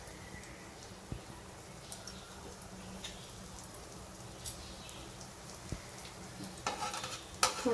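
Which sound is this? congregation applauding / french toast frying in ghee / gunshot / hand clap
french toast frying in ghee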